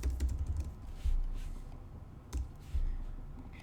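Light clicks of a computer keyboard as a folder name is typed, short bursts of keystrokes separated by brief pauses, close and fairly quiet.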